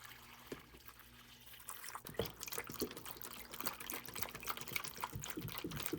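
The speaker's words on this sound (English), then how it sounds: "I will just dump 2 gallons of half-strength fertilizer into the tray." Two gallons of half-strength fertilizer splashing and trickling into a plant tray after a quiet start, a steady close wet pour with drips, no talking.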